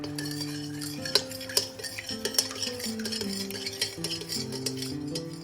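Cold water and dissolved jelly powder are stirred in a bowl, a spoon clinking and scraping at a steady pace with a few sharper taps, while soft music plays underneath.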